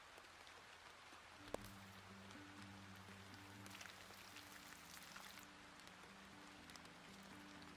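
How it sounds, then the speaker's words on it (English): Recorded rain ambience plays back quietly through a speaker, a soft, even patter of raindrops on a surface, with faint sustained tones running underneath. "I'm gonna turn the rain up a bit."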